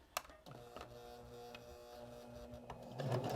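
A sewing machine stitches around a small fabric nail file holder, a quiet mechanical hum with a few clicks and short bursts of motor whir, close and faint.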